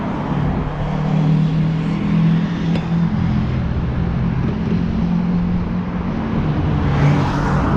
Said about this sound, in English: Nothing like sitting in traffic.